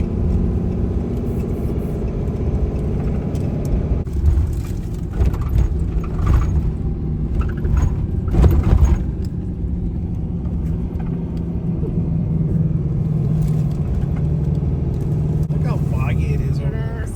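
Bay Area freeway traffic heard from inside a moving car heading toward the Central Valley, a steady engine and road rumble with tire whir and passing vehicles, while someone talks over it.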